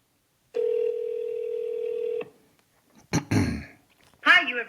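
A single long telephone ringback tone sounds on an outgoing call from an AI dental receptionist system, clear and steady for under two seconds. It is followed by short clicks and a brief spoken voice.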